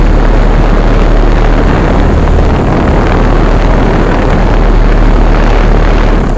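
A Carrier air conditioner unit's outdoor fan runs at startup, a loud, close, steady whooshing roar with a deep low hum throughout and no talking.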